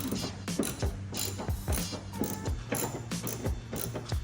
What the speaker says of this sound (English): we're gonna take our 10mm, our trusted 10mm that always goes missing. We're gonna go up to the upper hood bolt. Go ahead and loosen that.